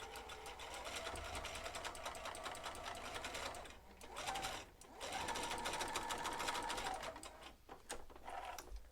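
A sewing machine stitching fabric runs in steady, rapid mechanical bursts close by, pausing briefly a few times before resuming its buzzing whir.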